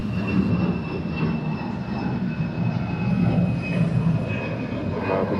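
Jet airliner engines at Atlanta airport, a broad steady roar with a thin high whine, sustained and fairly loud at middle distance, with no one talking.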